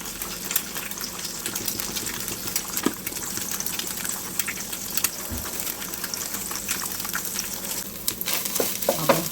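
Two eggs sizzling in a hot pan, salted and peppered, with a constant crackling fry and occasional sharper pops and spatters, close and alone.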